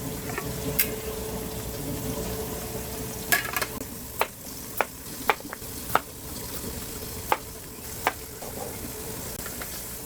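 Pork chop frying in a pan gives a steady, soft sizzle through the whole stretch, with several sharp clicks and taps of utensils against the pan. No one speaks.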